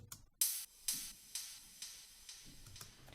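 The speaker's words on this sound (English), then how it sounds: "it's just a kick with a lot of echo" A kick drum in a house beat sounds once, then repeats through heavy echo at an even pace, each repeat fading quieter than the last.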